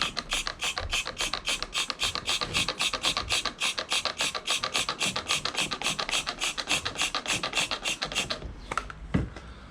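Cloth soaked in degreaser rubbed back and forth inside an engine air intake, a fast, steady rhythmic scrubbing rasp of even strokes, close and continuous, ending with a couple of clunks.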